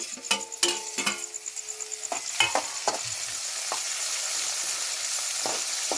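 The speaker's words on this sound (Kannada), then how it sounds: "ಸೊ ಇವಾಗ ಟೊಮೊಟೊ ಹಾಕೊಳ್ತಾ ಇದ್ದೀನಿ." Tomatoes fry in a pan with onions, giving a steady sizzle that builds and holds, while a spoon clinks and scrapes against the pan in several sharp stirring knocks early on.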